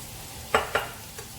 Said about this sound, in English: We just let that bagoong cook out a little bit.